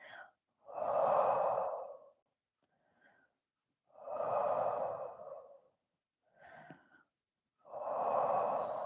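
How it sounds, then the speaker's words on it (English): Deep, slow breaths drawn during a full-body stretching session: three long, fairly loud exhalations, evenly spaced, with faint short intakes between them and no other sound. "just take some deep breaths there."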